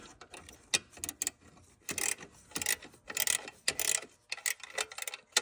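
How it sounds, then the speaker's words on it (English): Ratcheting wrench tightening the bottom bolts on a catalytic converter of a 2011–2020 Grand Caravan or Town & Country minivan, with close, bursty runs of rapid clicking from the ratchet mechanism, broken by short pauses and no talking. "Thank God for ratcheting wrenches."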